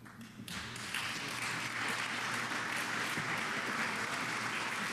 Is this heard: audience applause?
yes